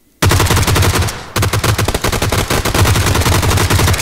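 Rapid automatic gunfire from the video game PUBG, loud and close, bursts in abruptly, pauses briefly, then resumes as sustained sharp rattling volleys with no talk over it.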